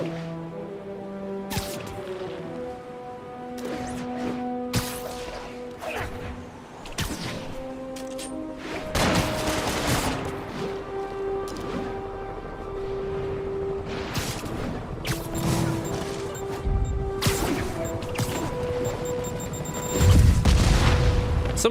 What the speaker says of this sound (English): you see an explosion inches from him